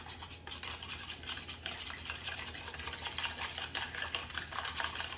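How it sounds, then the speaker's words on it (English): A mini whisk stirs briskly in a bowl, giving a steady, soft rhythmic scraping and clicking close by with no talking. "I wanted to show y'all how I can use my mini whisk"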